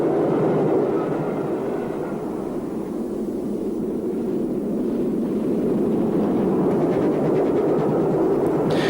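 An LMS Black 5 steam locomotive hauls a fast van train past, a loud, steady rushing roar of wheels and motion that holds for several seconds with no voices.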